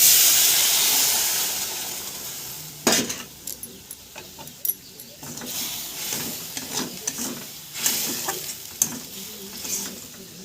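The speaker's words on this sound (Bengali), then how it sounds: "এবার এই হলুদ গুঁড়ো লঙ্কা গুঁড়োর জলটা এটার মধ্যে দিয়ে দেব" Water mixed with turmeric and chili powder poured into a hot pan, a loud sizzling hiss that fades, then sharp clinks and scrapes of a utensil stirring, close and without talk.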